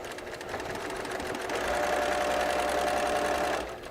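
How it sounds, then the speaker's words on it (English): A sewing machine hums and rattles in one short continuous run as it re-sews a quilt seam, close and steady, growing slightly louder before it stops. "I'm just going to re-seam this one seam"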